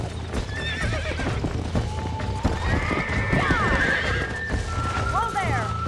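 A horse in Red Dead Redemption whinnies several times over rapid hoofbeats, close and loud, while someone speaks over the action.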